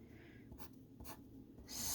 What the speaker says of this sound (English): you can write down 6 and you write equals